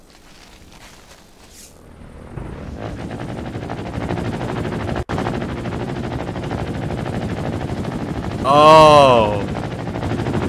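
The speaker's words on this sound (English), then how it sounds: "Here's a little helicopter." A small helicopter in the video game Trailmakers keeps up a steady rotor drone with mechanical clatter, loud and continuous, with a brief exclamation from a voice.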